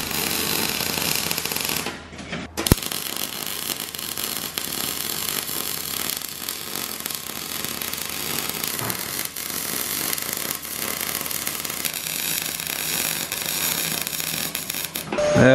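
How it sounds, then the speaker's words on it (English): MIG welding on a homemade propshaft: a dense, continuous crackling buzz runs close and steady for about fifteen seconds, with one brief break near the start. "I'm just gonna probably MIG the outside ones"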